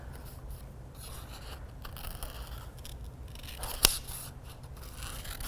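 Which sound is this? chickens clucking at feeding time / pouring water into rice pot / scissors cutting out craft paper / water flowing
scissors cutting out craft paper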